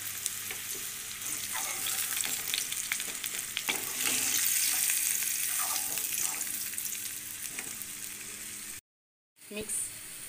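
Potatoes fry in a pan of oil until reddish, giving a continuous close sizzle with crackles and stirring clatter. The frying cuts off briefly near the end, then a short burst resumes.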